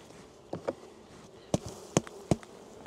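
Honeybees buzz at an open beehive on a cool March day, a soft, continuous hum close by, broken by a few sharp clicks and knocks.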